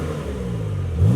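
A Porsche Macan GTS fitted with an Armytrix valvetronic exhaust revs up, its engine holding a steady drone before rising sharply in pitch at the end, loud and close with no talk.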